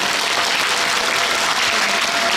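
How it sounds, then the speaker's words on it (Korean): A theatre audience at a musical performance gives warm, steady applause, many hands clapping continuously and evenly throughout with no voices standing out. "따뜻한 박수 부탁드립니다"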